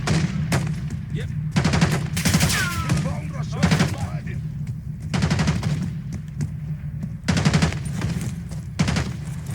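Automatic and rifle gunfire in the Black Ops 6 video game, repeated loud bursts of shots in rapid clusters throughout, with brief voice chatter and radio callouts mixed among the volleys.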